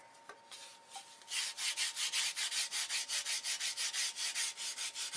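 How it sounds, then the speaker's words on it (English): Sandpaper held in the hand is rubbed back and forth on the stabilizer of an electric control-line Thunderbolt model aircraft, with a few tentative strokes followed by a steady run of quick, even rasping passes, close and clear, with no talking. "You sand the pen line off."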